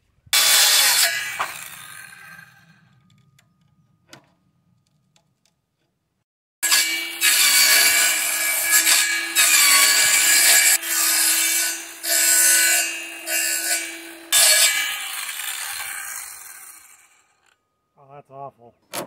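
Wood is sawn by hand with long, loud, close rasping strokes in a steady back-and-forth rhythm, broken by short pauses, with a few handling noises at the start and end.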